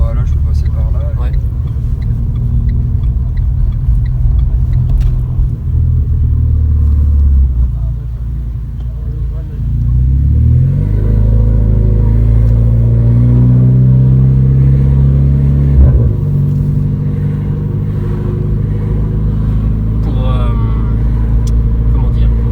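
A yellow Renault Clio 4 RS Cup engine runs at low revs around 1500 rpm with a deep, steady rumble, dipping briefly then swelling as it pulls, heard from inside the car while people talk over it.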